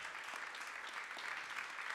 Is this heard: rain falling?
no